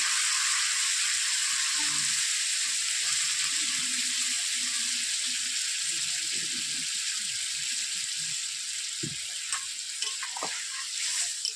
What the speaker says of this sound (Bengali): এরপর দিয়ে দিচ্ছি সরষে পোস্তের জল।